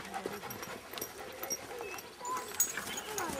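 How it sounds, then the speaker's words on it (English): An excited dog whimpers and whines in short, irregular bursts close by, mixed with faint scuffling and quiet human voices in the background. "Your dog's going loony."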